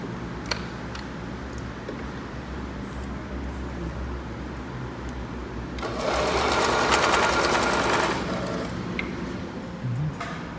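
A sewing machine runs along the edge of a preschool backpack, stitching on piping with a soft steady whir, then a louder, denser burst of fast stitching near the end.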